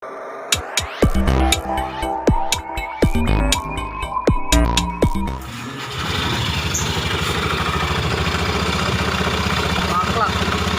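A scooter with a rough-running CVT revs in rough, uneven bursts with sharp clattering knocks, then settles into a steady, harsh idle drone nearby.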